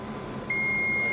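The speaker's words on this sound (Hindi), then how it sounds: "तो देखिए बीप दे रहा है" A Model Y90C multimeter set to continuity buzzer mode beeps while testing a coil. The steady, loud, piercing tone cuts in partway through and holds unbroken to the end over a faint background hiss.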